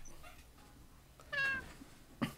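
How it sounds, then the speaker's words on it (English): A cat meows once, a short bright harmonic call standing out over a quiet room with low background murmur, followed by a brief sharp knock. "I hear a kitty."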